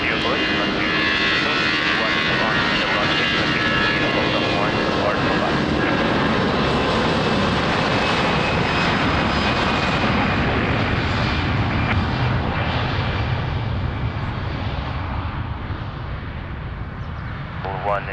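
Airliner at Lisbon Airport near runway 20, a loud, continuous engine roar close by that holds steady and then eases slightly toward the end, with air-traffic radio voices underneath.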